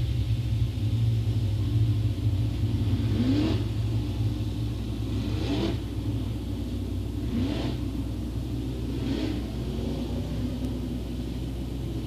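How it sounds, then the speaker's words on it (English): Late model race cars circle Crossville Raceway in a dirt-track heat race, a steady rumble of engines with several passes swelling and fading as cars go by at a distance. "Sparta's Perry Delaney wins the first late model heat race."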